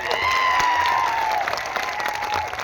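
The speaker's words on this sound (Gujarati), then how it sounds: "હર હંમેશ સંઘર્ષશીલ એવા આનંદભાઈ પટેલ સાહેબ માટે જોરદાર તાળીઓ પાડ લઈએ" A rally audience at a Birsa Munda birth anniversary celebration in Netrang breaks into loud, sustained applause that fills the space, with a faint whistle running through it.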